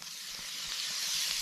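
Steak sizzling in a hot pan with butter, a steady close bright hiss that swells slightly throughout, with no voices.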